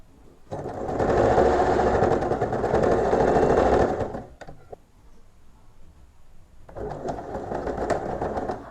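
Sewing machine stitching a folded waistband edge on a six-panel petticoat, a loud close whir for about three seconds, then a quiet pause with small clicks before a second, softer run of stitching.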